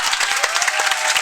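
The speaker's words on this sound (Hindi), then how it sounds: "जोरदार तालियों के साथ।" Loud, close clapping from an audience at a farewell program at a gurukul, welcoming Subhash Charan, with a brisk irregular patter of many hands sustained throughout.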